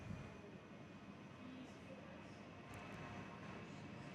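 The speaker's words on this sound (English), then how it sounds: "The Fokker 100 rolling though." Fokker 100 airliner rolling on the runway at Perth, heard from a distance as a faint, steady engine drone with a low rumble.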